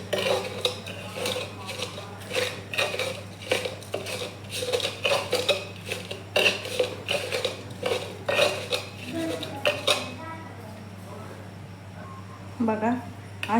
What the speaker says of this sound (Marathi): आता हे असं व्यवस्थित वाटून घ्यायचं बघा।